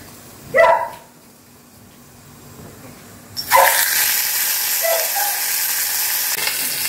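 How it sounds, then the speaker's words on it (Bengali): A dog named Maggie barks in a short, loud burst, then goes quiet as a hot steel wok begins a strong, steady sizzle; a few faint yelps come through under the frying noise. "ম্যাগি কেন চেঁচাচ্ছে জানো তো?"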